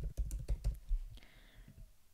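An email address is typed on a keyboard, a quick run of close, crisp key clicks in an uneven rhythm that stops partway, followed by faint room tone and a soft tone.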